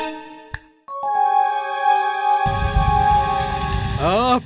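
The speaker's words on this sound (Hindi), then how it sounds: "पानी बरस रहा है।" A dense, steady hiss of rain falling starts abruptly, mixed with sustained electronic tones and a sweeping synthetic sound near the end.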